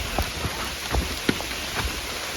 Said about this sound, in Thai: นี่ฝนตกแบบไม่หยุดเลยนะ